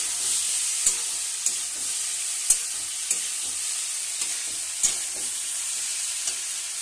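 Spices with turmeric and a splash of water being sautéed in a pan for a drumstick and fish curry: a steady hiss of frying broken by sharp intermittent knocks of a spatula against the pan, close and fairly loud, with no voices.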